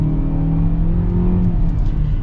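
A 2023 Kia Soul GT-Line accelerates, a steady close engine drone with rising whir heard from inside the car, alone without talk.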